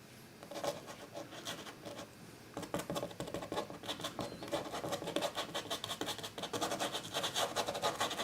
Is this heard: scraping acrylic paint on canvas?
yes